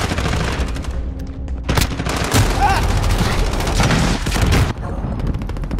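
Automatic gunfire in the video game Modern Warfare, rapid bursts of shots and booms filling the mix loudly and continuously, with a player's voice talking over parts of it.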